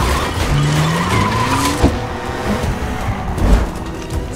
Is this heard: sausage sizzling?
no